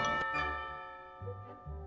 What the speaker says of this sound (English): Who rang that bell?